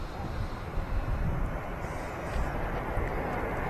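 Air Transat airliner lining up for departure on runway 05L at Manchester Airport, a steady broadband engine rumble and roar at a distance, continuous with wind noise throughout.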